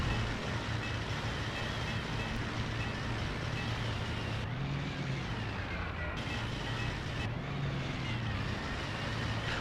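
A World War I fighter plane in a dive in the flight sim game Rise of Flight, a steady rushing engine drone with wind roar, fairly faint and unbroken throughout.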